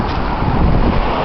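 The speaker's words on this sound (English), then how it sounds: "It's a lot of traffic." Steady roar of road traffic on Bastanchury Road in Fullerton, California, close and continuous, with wind buffeting the microphone over a broad low rumble.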